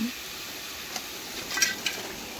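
A quiet, steady sizzle of washed potatoes frying in a hot wok, with a few soft stirring scrapes and clinks rising briefly near the end.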